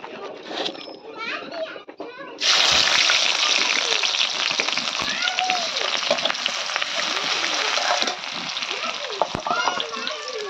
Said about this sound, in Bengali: পেঁয়াজটা হালকা একটু ভেজে দিয়ে দিব ডিম,